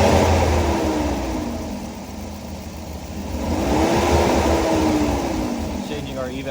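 A car engine, with an EVAP vent solenoid in its system, revs up under throttle, then eases and rises again as a steady, close hum beneath light speech.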